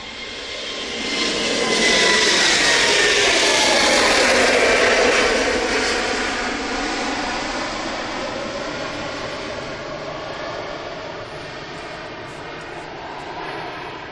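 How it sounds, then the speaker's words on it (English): Airbus A320neo airliner bound for Athens at Manchester Airport, its engine roar swelling over the first few seconds into a loud, steady jet rumble with a rising whine, then slowly easing off as it passes. "Airbus A320 Neo, destination Athens."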